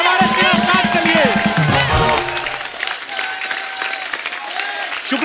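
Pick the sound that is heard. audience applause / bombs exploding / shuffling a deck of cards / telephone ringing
audience applause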